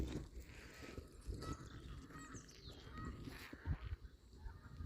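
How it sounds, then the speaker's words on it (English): Geese at a lake on a cold, snowy early morning, honking in scattered calls across a continuous outdoor background, fairly near with some wind or ambient rumble. "There's a lake over there with lots of geese."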